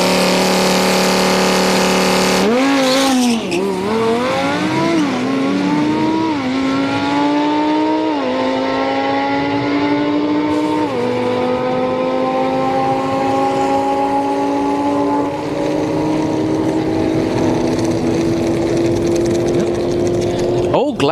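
A Lamborghini Huracan and a Volkswagen Golf launch side by side at a street-night drag strip. Loud engine roar climbs through several upshifts over about twenty seconds, then fades as the cars pull away.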